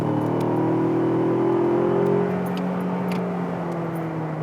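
A 2019 Ford Ranger XLT's 4-cylinder engine climbs steadily toward 60 mph, heard from the cabin as a constant droning hum that rises in pitch, eases off slightly, then holds.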